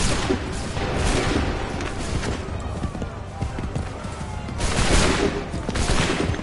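A volley of musket gunfire crackles in Assassin's Creed III Remastered, dense overlapping shots rolling across the whole stretch and swelling again near the end, loud and continuous amid battlefield noise.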